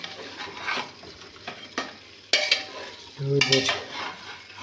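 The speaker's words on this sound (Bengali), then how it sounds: "দেখেন আমার এখানে ধুম কষানো হইতেছে, ওর কাছে তেল হইতেছে" Beef braising in oil in a pot is stirred and scraped with a utensil, giving a low sizzle broken by sharp scraping bursts and metallic clatter, close and loud with no voices.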